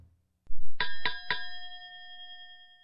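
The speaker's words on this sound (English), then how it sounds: "You can ring my bell." A bell used as a quiz buzz-in sound rings three quick bright dings after a soft thump, then the tone decays smoothly, close and clear with no talking.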